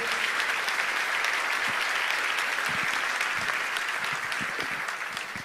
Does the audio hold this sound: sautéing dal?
no